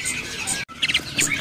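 A caged canary at a bird market kiosk gives a few quick, bright chirps in a short burst, fairly close, over faint market background noise.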